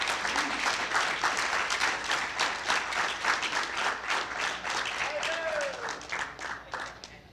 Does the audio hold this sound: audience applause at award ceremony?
yes